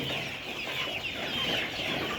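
Layer pullets, 67 days old, cluck and murmur together inside a poultry shed, a dense steady chatter of many birds at close range with no talk.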